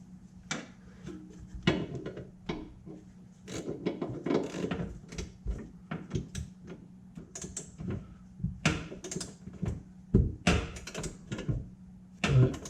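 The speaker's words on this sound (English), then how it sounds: "I'm going to torque down the ones that hold the crossmember in place" Torque wrench tightening crossmember bolts on a Nissan 350Z during a urethane transmission mount install, giving a run of faint, close metallic clicks and ratcheting taps in irregular bursts.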